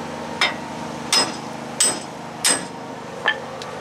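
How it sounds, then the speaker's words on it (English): Hammer blows driving wheel studs out of the hub of a 2005 Ford Ranger, five sharp metallic strikes spaced roughly evenly, close and loud, with no talking. "So I'll have to use a punch to get the broken ones off."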